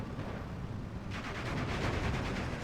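A Pak 40 anti-tank gun firing in the wartime strategy game Steel Division 2, a heavy report that swells in the second half over a constant rumble of distant battle.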